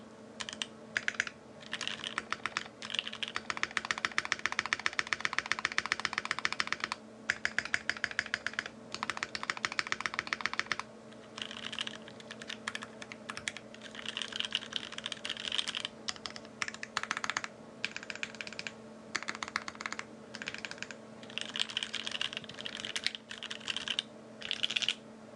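Typing on a Think 6.5 V2 mechanical keyboard built with mill-max sockets, producing bursts of rapid clacky keystrokes with short pauses between runs, close and crisp over a low steady hum.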